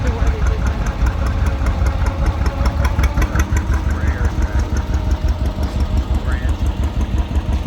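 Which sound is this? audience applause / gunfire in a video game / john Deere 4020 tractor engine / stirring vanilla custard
john Deere 4020 tractor engine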